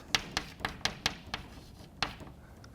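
Chalk taps sharply on a board during a university math lecture. Several quick, crisp knocks come in an uneven rhythm, faint and close against a quiet room, with no speech.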